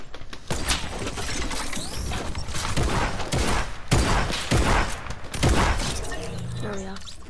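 Rapid bursts of video game gunfire crack in dense, loud volleys of sharp shots, with a player's voice talking over the shooting.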